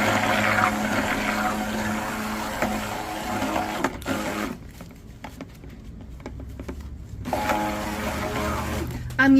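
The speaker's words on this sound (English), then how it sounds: "I'm using my stick blender on the low speed." A stick blender runs on low speed in hot process lavender soap batter, a steady motor whir that drops out briefly in the middle before starting again, with a voice talking over it.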